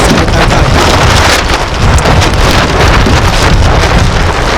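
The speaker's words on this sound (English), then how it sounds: "I think I'm going to have to stop this fairly soon, the wind's getting up." Strong wind roars and buffets the microphone without a break while a Blaze dinghy, a mk2 with a Hyde sail, is out sailing, with a steady broadband rush throughout.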